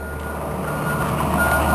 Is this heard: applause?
no